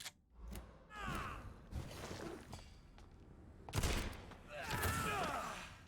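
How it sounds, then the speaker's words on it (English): Shotgun blasts in the video game Vampyr, a few loud, sharp bursts with broadband thumps standing out among combat noise and voices, spaced unevenly through the fight. "I think I need my shotgun for this situation"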